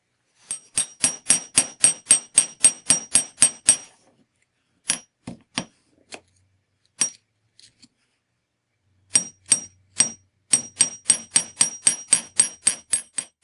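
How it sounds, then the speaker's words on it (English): A small hammer strikes silver wire to flatten an earring, giving sharp metallic taps in quick, even runs with a few scattered single blows between the bursts, close and crisp. "so I'm going to hammer it just a bit more"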